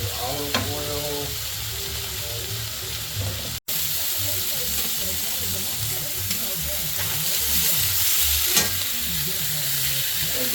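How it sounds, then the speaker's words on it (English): Steady, loud sizzling of chicken and bacon frying in hot olive oil, crackling continuously throughout with occasional louder pops. "we got our bacon going, got our chicken frying in the olive oil"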